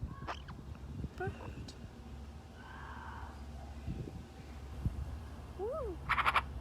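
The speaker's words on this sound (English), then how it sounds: "Bird." A rescued pet bird calls indoors with a few short, scattered chirps and squawks, ending in a louder burst of rising and falling calls close by.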